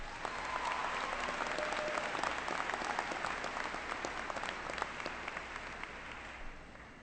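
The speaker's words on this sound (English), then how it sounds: "So please give him a round of applause." Audience applause at a high school graduation ceremony, steady sustained clapping from a large crowd lasting the whole stretch and tapering slightly at the end.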